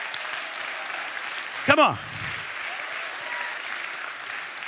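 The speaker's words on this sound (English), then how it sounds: "Clap your hands like it's a good possibility." Audience applause in a large hall, a steady broad wash of clapping throughout, with a voice cutting in briefly over it.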